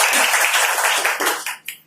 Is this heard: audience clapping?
yes